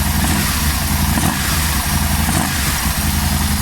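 Motorcycle engine running on its own after being started with brake cleaner sprayed into the inlet, a loud, close, uneven idle with a throbbing low rumble and slight fluctuations.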